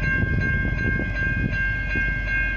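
V/Line N class locomotive N451, fitted with a Leslie RS5T horn on one end, rumbles close by with a steady droning engine and low clattering rail noise throughout, with no voices.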